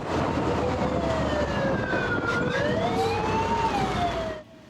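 A fire engine siren wails continuously as the truck responds to an LPG vehicle fire on a scorching summer day, its rising and falling tone sweeping loudly over road rumble and engine noise.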